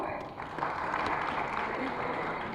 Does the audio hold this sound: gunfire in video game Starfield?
no